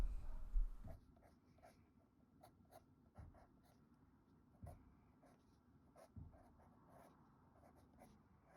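Colored pencil, ochre brown, strokes across paper while a goose is drawn: soft scratchy scribbling in short repeated bursts, close and quiet, with occasional sharper taps and no talking.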